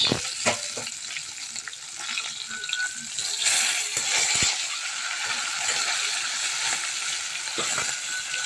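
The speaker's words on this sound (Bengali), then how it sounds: "মাছটা ভাজা হচ্ছে" Fish fries in oil in a pan at home, with a soft continuous sizzle, occasional stirring and clinking utensil sounds, and a person talking at times.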